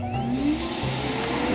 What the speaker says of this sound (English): the base actually vacuums the robot's bin into a larger one